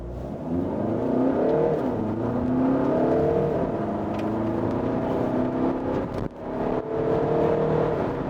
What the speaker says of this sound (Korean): 비교적 짧은 거리에서 시속 100km 주파하고 있습니다